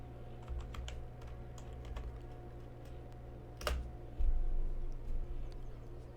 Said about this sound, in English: I was typing in, like...